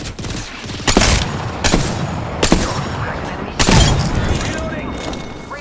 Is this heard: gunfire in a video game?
yes